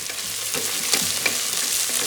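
Tomato rice ingredients sauté inside a Geek Robo Cook cooker, a soft steady sizzle with faint stirring scrapes, close and continuous, with no voices.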